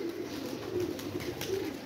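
Pet pigeons coo in a low, repeated rhythm against a steady background hum, with no voices.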